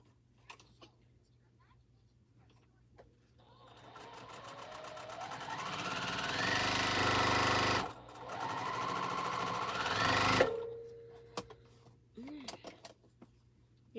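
A Juki sewing machine stitches quilt pieces, running steadily in two long bursts that rise in speed, with a brief pause between them, followed by a few clicks and handling sounds.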